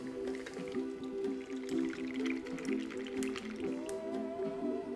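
A blackberry margarita is poured over ice into a salt-rimmed glass, a steady close-up liquid pour with gurgling drips and ice clinks running throughout, without talk.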